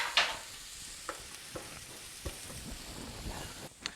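Fresh parsley is stirred into a homemade Alfredo sauce in a pan, giving a faint, low simmering hiss with several soft, scattered scraping taps from the spoon.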